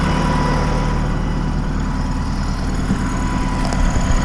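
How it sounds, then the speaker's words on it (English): A tractor engine idles loudly and up close while its PTO turns a hydraulic pump, giving a constant deep rumble with a steady drone and no change over the few seconds. "my PTO is running a hydraulic pump"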